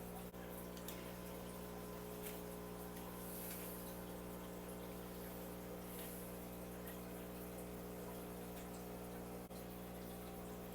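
A homemade powered gravel vacuum pump runs submerged in an aquarium, giving a steady, continuous watery hum and gurgle with constant loudness throughout and no talk.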